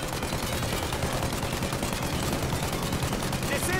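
Rapid gunfire in the video game Mafia Definitive Edition rattles continuously as shots are aimed at a plane's engines, dense, loud bursts of shooting with no voices over them.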